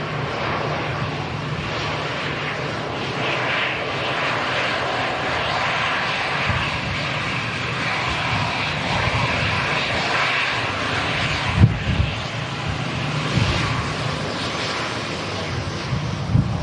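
A TUI Dreamliner lines up on the runway at Manchester Airport, its jet engines giving a broad, steady roar from a distance, mixed with gusty wind buffeting the microphone.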